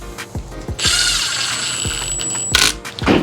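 Cordless impact wrench with a nearly flat battery running bolts onto a Honda D16 engine during a turbo Civic rebuild, giving a loud sustained mechanical whir and rattle with clicks before and after.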